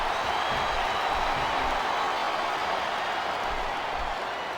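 Crowd roaring in a wrestling video game arena, a dense, steady wash of cheering noise that stays loud and unbroken throughout.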